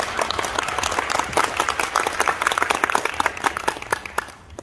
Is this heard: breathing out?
no